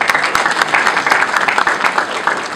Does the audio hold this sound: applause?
yes